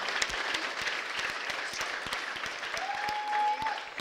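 An audience at a religious gathering claps in a steady patter of applause, fairly distant and moderate in level, with a faint voice and a brief tonal note near the end.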